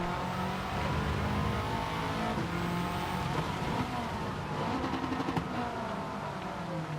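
A race car engine in a racing video game roars continuously and loudly, its pitch rising and falling with acceleration and braking through corners, with no voices heard.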